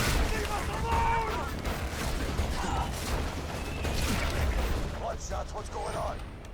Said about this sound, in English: I'm hearing more gunfire than usual.